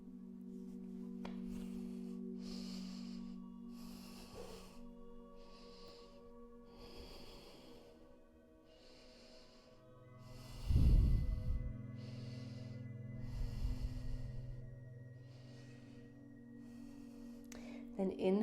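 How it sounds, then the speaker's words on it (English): Slow, deep breaths taken during a hip stretch, close and soft, sustained in and out over several cycles, with one louder, rougher exhale partway through. "Deep breaths."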